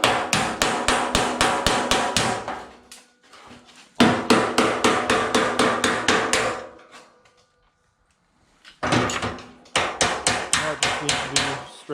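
A hammer strikes metal against a dolly in rapid rhythmic bursts, straightening a rusted, cracked bed side on a 1952 Ford half-ton hot rod truck; three loud flurries separated by short pauses.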